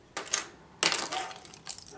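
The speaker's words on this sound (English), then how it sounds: "car keys. They broke apart." Metal car keys breaking apart and clattering, two sharp jingling bursts close by, the second ringing out longer before a faint final clink.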